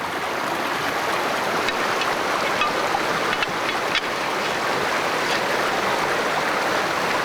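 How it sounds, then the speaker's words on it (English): Icy, fast-flowing water of a mountain creek rushes steadily in a continuous broadband wash, close and fairly loud, with a few faint knocks but no speech. "It's a task made much more difficult by the icy, fast-flowing water of Summit Creek."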